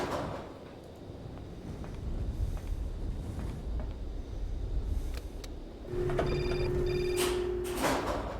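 A phone rings in the Syberia adventure game, a steady electronic trill with repeated pulses over a murky background hum, fairly loud and alone with no talk.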